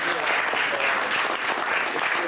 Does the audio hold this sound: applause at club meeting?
yes